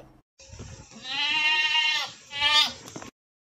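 A single goat bleats loudly in two wavering calls with a short pause between them, close by and with no other sound around it.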